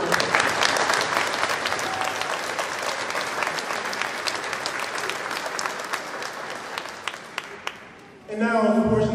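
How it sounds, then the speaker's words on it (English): A graduation ceremony crowd breaks into loud, dense applause, sustained clapping that fills the room for several seconds before fading and giving way to a voice at the end. "So we want to give them a big round of applause."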